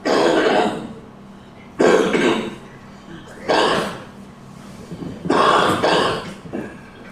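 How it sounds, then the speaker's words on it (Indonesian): Harsh, raspy smoker's coughing comes in four heavy bouts separated by short pauses, close and loud, with some throaty hacking between fits. "Batuk seorang perokok adalah tanda rusaknya seluruh tubuh."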